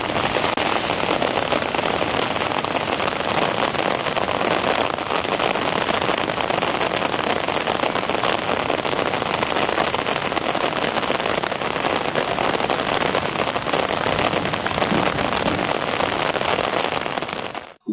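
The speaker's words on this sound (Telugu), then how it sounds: "వరంగల్ నగరంతో పాటు ఏజెన్సీ గ్రామాల్లో భారీ వానలు కురిశాయి" Heavy monsoon rain pours in Warangal, Telangana, as a loud, unbroken roar of drops beating on surfaces that holds steady throughout and stops abruptly at the end, with no voices.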